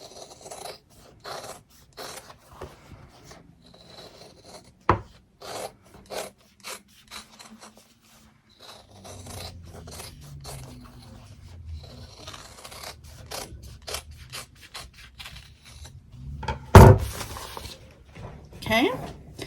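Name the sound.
cutting around stitched fabric mug rug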